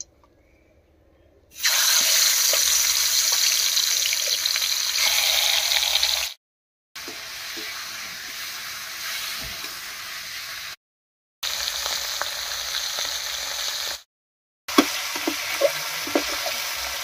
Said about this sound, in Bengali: মুড়ি ঘন্টর জন্য মাছের মাথাটা ভেজে নেব